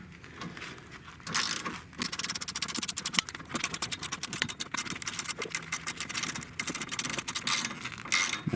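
Rapid ratcheting clicks from a wrench tightening a bolt during a transmission swap on a first-generation Audi TT Quattro, close and busy, with dense bursts of metallic ratchet strokes running for several seconds.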